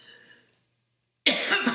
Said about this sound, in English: I've got a bloody right tickly cough.